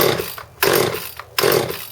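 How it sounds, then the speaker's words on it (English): A Craftsman chainsaw with a new fuel line and partial carb kit being pull-started, a pair of rough rasping pulls of the starter cord, each a short burst of churning noise without the engine catching, no talk. "I'm going to start this chainsaw up and see if it works good."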